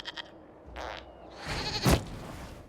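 A goat bleats in the video game Dragon Age Inquisition, a few short nasal cries with a louder, rougher bleat near the end over faint background ambience.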